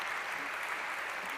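An audience at a Frankfurt talk applauds in a brief, steady burst of dense clapping, uniform and unbroken from start to finish.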